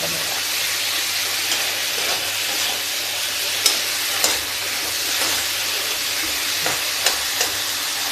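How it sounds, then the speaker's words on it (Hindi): Small diced potatoes sizzle loudly and continuously in hot oil in a pan for a potato, pea and tomato curry, with occasional faint clicks of a utensil and no voices. "अब हम आलू डाल रहे हैं, छोटे पीसों में कटी हुई।"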